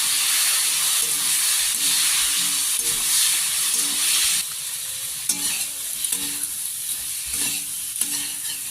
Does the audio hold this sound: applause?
no